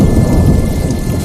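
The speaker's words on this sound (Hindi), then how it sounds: "देखते ही देखते जोर शोर से बारिश होने लगी।" Sudden heavy rain pounding down over farm fields under dark clouds with strong wind, thunder rumbling low beneath a dense, loud, steady downpour, no voices.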